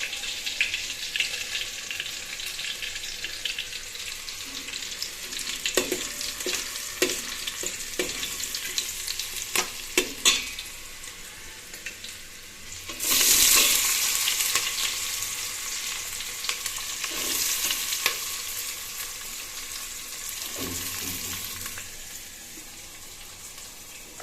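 Onions frying in a pan for puri usli, a steady sizzle with intermittent scraping stirs and a louder burst of hiss partway through, no voices.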